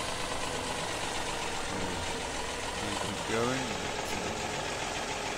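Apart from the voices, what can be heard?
tractor engine idling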